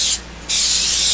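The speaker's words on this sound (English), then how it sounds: "just take some nonstick spray and spray it really good" Nonstick cooking spray hisses from an aerosol can into a cake pan in two loud, close bursts with a brief quieter gap between them.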